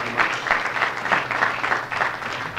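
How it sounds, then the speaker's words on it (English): Steady, dense applause from a seated audience welcoming someone to the stage, a continuous wash of many clapping hands at moderate distance. "Warm round of applause, please, for Bernie."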